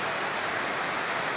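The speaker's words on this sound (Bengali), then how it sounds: "মুষলধারে বৃষ্টি হচ্ছে।" A heavy downpour drums on the tin roof of a house, a dense, loud, unbroken roar of rain with no pauses.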